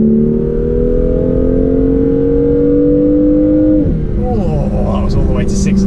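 A BMW M2 with aftermarket carbon-fibre-effect exhaust tips revs hard to 6,500 RPM, a loud climbing engine drone that holds steady and then drops away as the revs fall, heard from inside the car with speech underneath.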